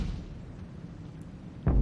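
A T82 HMC tank gun in a combat video game fires one heavy, low boom near the end, following a stretch of quiet low rumble.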